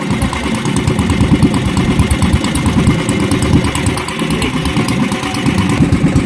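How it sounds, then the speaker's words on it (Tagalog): Motorcycle engine idling with exhaust blowing close up, a loud steady low rumble with even pulsing throughout, recorded on a riverside trip with no talk. "Yung buga ng tambutso ay nasa mukha ko lahat."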